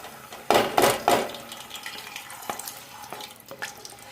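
Fresh salted fish drops into hot oil for a Ghanaian garden egg stew, setting off a few loud crackling spatters at first that settle into a quieter, steady sizzle with occasional pops.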